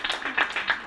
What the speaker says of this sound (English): You people clap for IRISE.